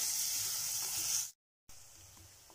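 Onions sizzle in oil in a pan for dhaba-style chicken curry, a loud steady hiss that cuts out abruptly, then returns more faintly.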